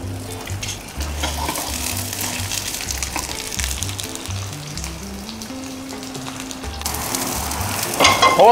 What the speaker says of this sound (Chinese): 然後就煎了，